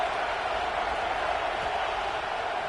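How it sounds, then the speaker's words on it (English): Big stadium crowd roaring on third down at a Clemson vs Penn State college football game in Happy Valley, a steady dense wash of noise held at the same loudness throughout with no talk. "Here comes the noise from this big crowd in Happy Valley on 3rd down."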